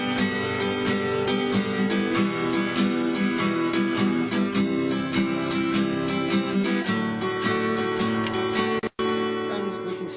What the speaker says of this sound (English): and it actually sounds like this. This is syncopated.